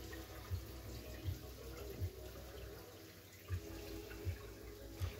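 Tap water runs through a hose fitted onto a household faucet and sprays into an aquarium like rain, a soft steady splashing and trickling close by with a few louder pulses, no voices.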